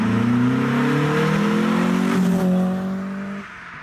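MK2 VW Golf GTI hot hatch accelerating on a road, engine rising loud and close through the revs with a gear change, then easing off near the end.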